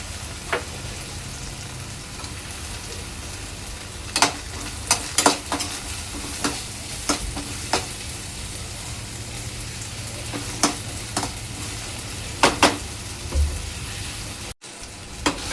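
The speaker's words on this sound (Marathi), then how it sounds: "बटाटा सुद्धा कांद्याबरोबर चांगला परतून घेणार आहे।" Potato sautés with onion in a pan for a vegetable fried rice, making a continuous close sizzle broken by scattered sharp scrapes and taps of a spatula stirring the pieces.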